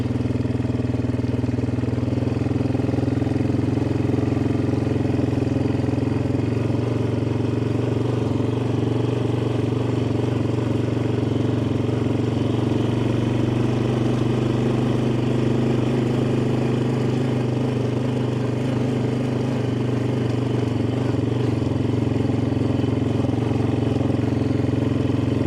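An old four-wheeler ATV engine runs loud and close, a continuous rough drone with steady low rumble and little change in pitch throughout.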